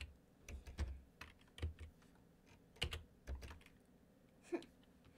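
Keys on a computer keyboard clack in uneven bursts while Python code is entered for Minecraft Education Edition, close and fairly quiet, without any speech.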